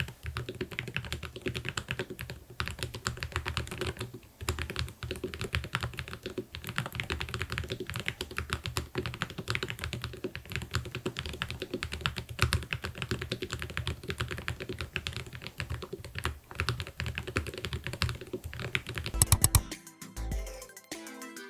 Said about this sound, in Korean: 이 키보드의 핵심 중 하나인 스위치, 타건감을 확인해 볼게요